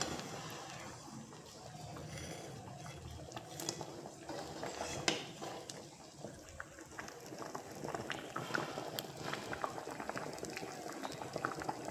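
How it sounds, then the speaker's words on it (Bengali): Lentil dal with crab boiling in a pot on a gas flame, a steady bubbling and popping texture with small spitting pops, constant and fairly close for the whole stretch, no talking. "এই মশলাটা দেওয়ার পর আরও 3 মিনিট মতন আমি ডালটাকে ফুটিয়ে নেব।"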